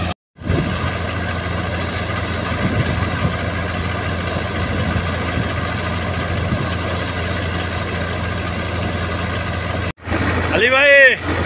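A steady, loud tractor engine threshing wheat in Ladakh drones with a low rumble throughout, briefly cutting out near the end before resuming with a whirring mechanical tone.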